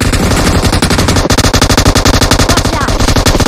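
Rapid automatic gunfire in the mobile battle royale game PUBG Mobile, a loud, dense stream of shots rattling continuously, close and dominant throughout.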